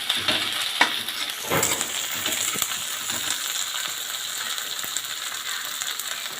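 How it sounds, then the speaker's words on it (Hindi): Capsicum roasting with browned onions in a pan for poha, a steady sizzle under repeated close scraping and stirring strokes, louder at the start and settling into an even fry. "अब इसमें शिमला मिर्च डालेंगे। शिमला मिर्च को भी थोड़ा सा रोस्ट करेंगे, ये हल्की सी सॉफ्ट हो जाए।"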